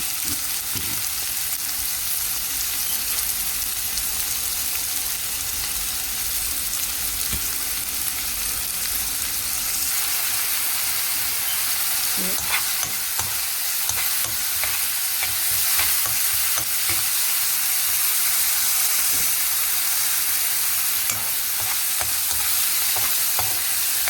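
Finely cut ingredients for salmon cakes fry in a pan, a loud steady sizzle with occasional scraping stirs throughout.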